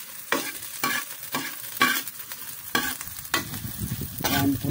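Garlic sautéing in a pan: a continuous crackling sizzle broken by regular scraping strokes of a spatula about every half second to second, close and fairly loud, with no talk.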